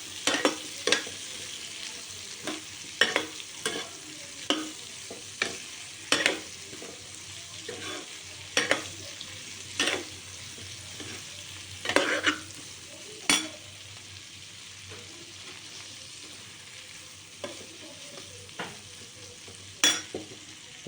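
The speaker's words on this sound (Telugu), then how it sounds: "కొద్దిగా నిదానంగా వేయించుకోవాలి." Chutney ingredients frying slowly in a pan, a soft steady sizzle broken by repeated scraping stirs of a spoon at irregular intervals, close and alone with no talk.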